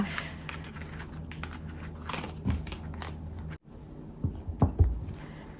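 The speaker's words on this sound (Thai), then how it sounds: "แม่มดจะขอเปิดไพ่เพิ่มเติมนะคะ" Tarot cards are handled and shuffled up close, giving soft papery rustles and light taps, a brief silent gap, then a few firmer card slaps.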